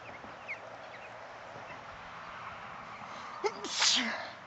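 A single sharp sneeze bursts out near the end over quiet background noise, preceded by a small intake of breath.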